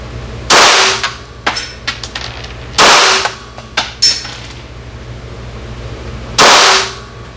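A Glock 17 pistol fires three loud, sharp shots at irregular intervals, each one followed by a ringing echo. Fainter metallic clinks and knocks fall between the shots.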